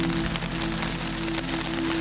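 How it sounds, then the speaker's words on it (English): Rain falls steadily on a surface during an Alaskan mountain goat hunt, a continuous close patter with a faint steady hum beneath and no voices. "A little bit of rain."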